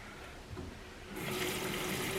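Tap water pours into a bucket for soaking a Nike KD9 volleyball shoe, starting as a faint trickle and swelling after about a second into a steady, close rushing fill.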